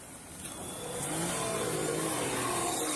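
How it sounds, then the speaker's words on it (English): A car engine revs hard and steadily while the car is stuck on a curb after an accident, building up in the first second and then holding a loud, strained roar. "find the woman revving her vehicle while stuck on the curb"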